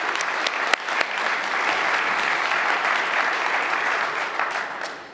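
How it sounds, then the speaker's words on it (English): A conference audience breaks into a sustained, dense round of applause at a FINOS open-collaboration event, steady and full for the whole stretch with no voices on top. "please join me in a round of applause for our TOC members."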